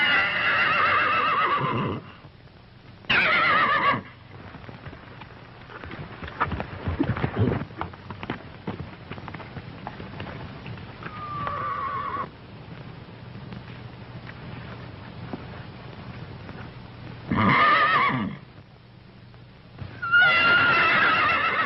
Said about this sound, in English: Something's the matter with that horse.